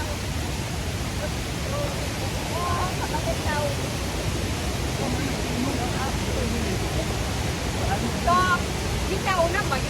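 Kuang Si waterfall in Luang Prabang, Laos, pours in a constant broadband roar, close and steady throughout, with faint voices and brief higher calls barely audible over the rushing water.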